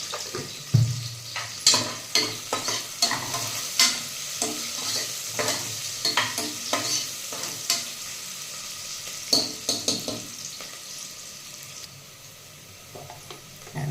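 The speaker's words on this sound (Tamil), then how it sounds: "ஏன்னா வெங்காயம் நல்லா வதங்குறதுக்கு." Onions with salt sautéing in a pan, a soft continuous sizzle broken by regular scraping strokes of a spoon stirring, close and fairly quiet, with a brief clatter near the start and stirring easing off toward the end.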